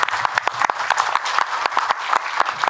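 Applause from an audience at a temple food international symposium, a brisk, fairly close patter of individual claps with distinct sharp hits over a continuous bed of clapping.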